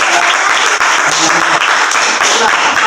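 Classroom applause from a group of vocational high school students during a group guidance session, dense steady clapping filling the whole stretch with faint voices mixed underneath.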